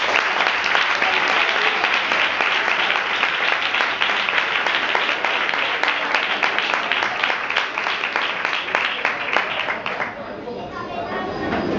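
Loud, dense audience applause with crowd cheering fills a concert space for a singer, sustained for about ten seconds before thinning into scattered claps and murmur at the end.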